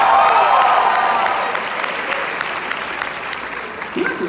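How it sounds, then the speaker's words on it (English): Sustained audience applause fills a venue after a collegiate a cappella group's ICCA competition set, loud and dense at first, then slowly thinning with a few scattered shouts. "Big round of applause to the GW Pitches"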